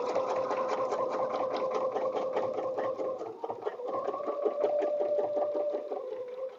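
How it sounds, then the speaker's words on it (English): A domestic sewing machine stitches free-motion quilting on a fabric bed runner, a fast steady mechanical whir with rapid needle ticks that pauses briefly midway, close and clear. "what I want to do is I want to stitch around this side."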